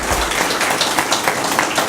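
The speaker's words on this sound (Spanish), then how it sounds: "pido un aplauso" An audience at a Spanish-language lecture breaks into loud, close applause, a thick continuous patter of many hands with no speech over it.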